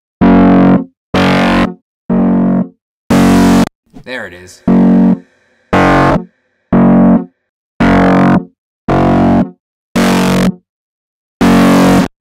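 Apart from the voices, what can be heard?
guitar with analog distortion effect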